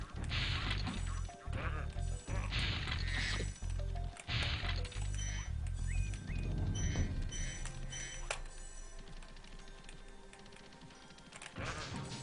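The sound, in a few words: sheep bleating in video game Spyro the Dragon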